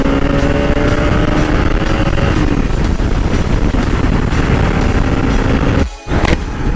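A sport motorcycle, a Pulsar RS 200 or Apache RR310, runs hard on a road with a steady loud engine drone and wind noise, briefly dipping near the end before surging again.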